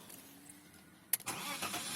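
A 1995 BMW E34 520i with its 2.0-litre M50 petrol engine cranks and catches in a sharp burst after a quiet stretch, then settles into a steady close idle.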